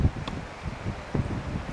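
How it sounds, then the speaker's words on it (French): Strong wind blows beside a rising river, a steady low rumbling gust with some rustling and buffeting against the microphone, heard alone for a brief moment. "It's windy."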